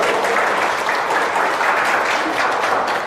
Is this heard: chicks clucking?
no